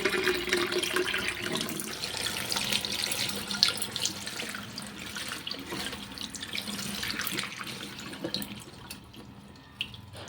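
A tap runs steadily into a household puja-room basin stained by iron-rich water, with water splashing continuously as puja flowers and items are washed, no voices.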